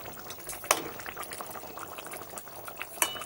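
Jackfruit and potato curry simmers in a pan with a steady close bubbling and gurgling, a couple of sharper pops standing out over the continuous boil.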